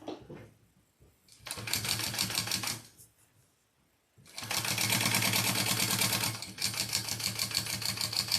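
A sewing machine stitches two fabric layers together for a crossbody bag, running in two steady bursts: a shorter run, a pause, then a longer continuous loud whir with rapid needle chatter, close and clear.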